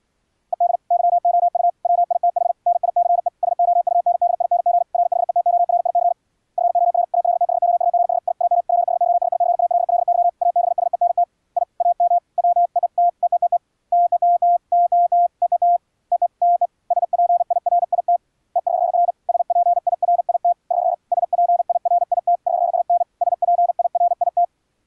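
A single mid-pitched Morse code tone keys on and off in dots and dashes, steady and clean over silence, with a smooth quality throughout from filtering in MIXXX software.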